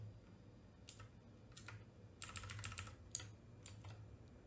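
Faint, quiet computer keyboard typing while code is reverted in a PHP tutorial: sparse single clicks, then a quick run of keystrokes, over a low room hum with no talk.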